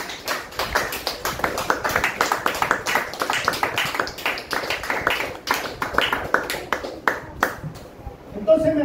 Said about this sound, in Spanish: El aplauso del Señor.